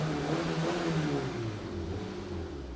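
A car engine revs up and settles again in a low, throaty hum, heard close and steady with a slight rise and fall in pitch over a few seconds and no talking.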